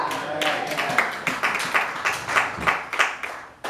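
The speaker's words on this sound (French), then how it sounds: "On applaudit le Seigneur." A church congregation claps together in a steady rhythm of sharp, moderately loud claps over several seconds, with faint voices in the background.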